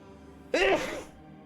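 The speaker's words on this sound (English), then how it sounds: "Oh man, sneezing." A single short sneeze from a character in Skies of Arcadia Legends, a quick sharp burst over a faint steady game background hum.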